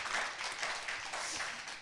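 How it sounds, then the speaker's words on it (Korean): Audience at a poetry talk event applauding the poet, a brief, fairly faint burst of dense clapping that stays even and then tapers slightly. "박수 한번 주십시오"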